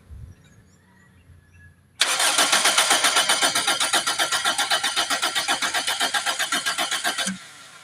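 Toyota Corolla Altis with a fuel pump that builds no pressure, cranked by its starter: after a quiet moment, a loud, rapid, rhythmic churning runs for about five seconds and then cuts off.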